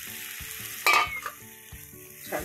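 Dried sukat fish frying in a pan as it is stirred, a soft sizzle under a sharp scraping clatter near the start, then quieter intermittent stirring.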